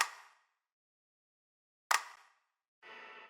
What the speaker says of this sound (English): Then we added this clap that we are using a lot, and it's a clap equalized on mid side.